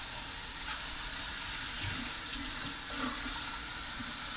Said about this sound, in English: pour the vegetables into my colander and then refresh with some cold water